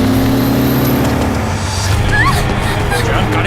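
A car roars off fast with tires squealing during a tense film chase scene, the engine loud and close and the screech sliding past, while voices shout in the background.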